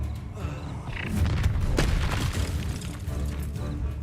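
Spells cast in Hogwarts Legacy land as a run of loud, booming magical blasts and thuds, rumbling continuously for a few seconds with faint voice underneath.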